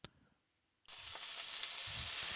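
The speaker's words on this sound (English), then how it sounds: "I absent-mindedly stare at the fresh grill lines on the fish that I'm frying." A fish fries in a pan in the Angel Tear video game, a bright, steady sizzle that starts abruptly after a near-silent moment and continues loud and hissing with small pops.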